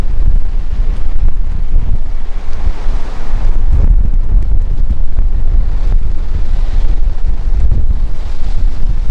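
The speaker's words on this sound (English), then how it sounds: "Here comes another huge gust coming behind me." A strong wind gust roars through a dust storm in Boise, Idaho, a loud, continuous rumbling buffet of wind against the microphone lasting throughout with no voices.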